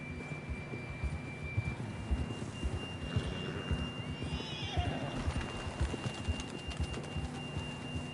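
A horse in a video game gives a drawn-out whinny amid steady clip-clopping hooves, over a thin sustained electronic tone and soft ambient game sound.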